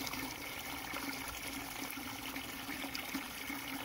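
Water gushes steadily from a 100-foot stainless steel garden hose into a container, a constant rushing splash at moderate distance with no speech.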